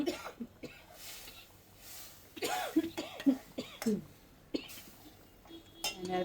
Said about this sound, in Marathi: असं थोडासा खोकला लागू शकतो फोडणीत पाणी टाकल्याने